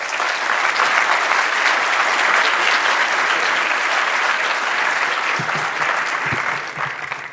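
Sustained applause from a conference audience welcoming the Secretary of Homeland Security to a keynote address, loud and steady throughout before tapering slightly near the end.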